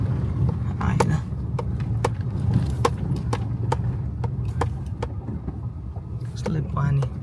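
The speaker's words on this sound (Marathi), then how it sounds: "मग आता त्या पाण्यातून गाडी घालायची आपल्याला," A car drives through water on a rough village road, giving a steady low engine rumble broken by sharp knocks and splashy bumps, with a voice talking over it.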